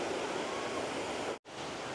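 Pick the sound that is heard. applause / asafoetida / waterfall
waterfall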